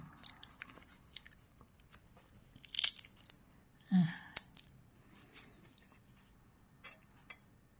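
Someone bites and chews crispy deep-fried small salted fish eaten whole with the bones, producing a couple of loud close crunches amid quieter chewing and faint clinks of cutlery.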